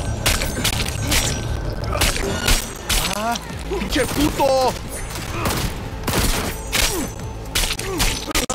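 A loud firefight in Cyberpunk 2077, with dense overlapping gunshots and thuds throughout, mixed with shouting voices and bursts of talk amid the shooting.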